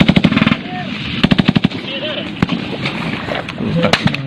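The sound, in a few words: gunfire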